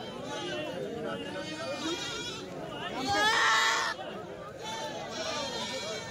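Goats bleat at a busy livestock goat market in Tora, with several wavering bleats rising over a constant murmur of crowd chatter and nearby talk.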